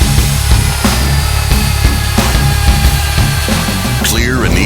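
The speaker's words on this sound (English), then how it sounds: "Direct spindle drive makes drilling faster." A Euroboor ECO 30 magnetic drilling machine with direct spindle drive and internal lubrication runs loud and steady, a constant motor whine with rhythmic pulses through the cut, ending in a rising sweep.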